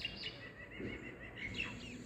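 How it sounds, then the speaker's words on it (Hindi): Birds chirp and tweet outdoors at about seven in the morning in a home garden, several thin repeated calls at moderate distance over a steady low background hum, with no talking. "यहाँ पे आप चिड़ियों का चहकना भी बीच बीच में सुन पा रहे होंगे"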